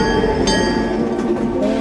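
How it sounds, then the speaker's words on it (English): A vintage train in a mock TV advert rumbles past, a loud, continuous rolling rail sound with a brief metallic squeal. "enjoy a ride on our authentic vintage Earth train"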